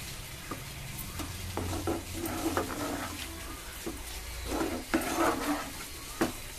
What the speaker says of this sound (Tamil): இப்போ இந்த நெய்யை ஊற்றணும்